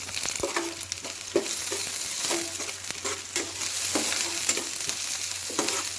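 Onions, curry leaves and slit green chillies frying with cloves in a pan for chicken liver fry: a dense, steady sizzle close up, with repeated soft scraping strokes of a spatula stirring throughout.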